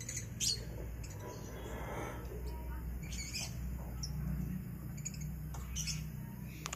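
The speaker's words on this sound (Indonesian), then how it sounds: "Nih ada burung beo juga teman-teman." A myna bird calls with scattered high chirps and squawks among other birds at a gathering of pigeon and songbird keepers, caged and perched in trees, over a steady low background rumble.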